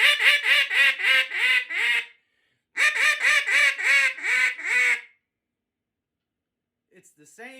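A Matt Pierce small bore mallard duck call blown in two loud, close runs of seven raspy quacks each in a steady cadence, a pause between them, then a faint trailing note or two.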